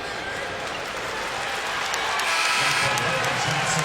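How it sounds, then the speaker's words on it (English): Steady applause from a large crowd at a college basketball game, a dense wash of clapping that swells slightly louder toward the end. "gets a major round of applause as he comes out for his defensive effort"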